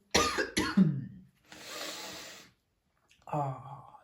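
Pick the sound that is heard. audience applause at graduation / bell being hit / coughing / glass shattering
coughing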